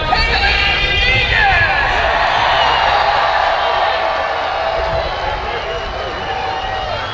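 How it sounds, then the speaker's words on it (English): At an auto race during driver introductions, a large crowd cheers in a loud, steady roar that holds for several seconds and eases off only slightly toward the end. "I had the crowd going wild. That was the loudest crowd I had all year."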